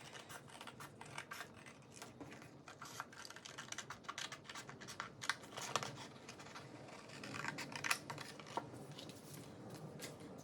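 Scissors snip through paper for a scarecrow craft, a quiet, close run of irregular crisp cuts and rustles with no talking.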